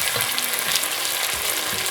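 Potatoes fry with onion in a pan as tomato paste is added, giving a steady, close sizzle broken by a few soft scraping stirs, with no one talking.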